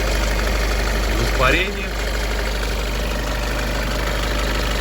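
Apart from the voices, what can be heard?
car engine idling noisily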